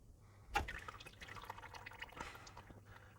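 Engine oil drips and trickles from a loosened oil filter on a Subaru Outback/Legacy 2.5L, heard as a faint close splash followed by soft, irregular dripping.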